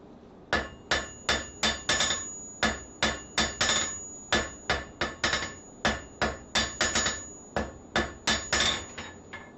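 A hand hammer strikes hot metal while drawing out a taper at the forge, delivering loud sharp ringing blows in quick uneven bursts of two to four with brief pauses, steady throughout.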